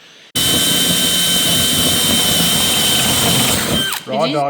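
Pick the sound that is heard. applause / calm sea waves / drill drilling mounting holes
drill drilling mounting holes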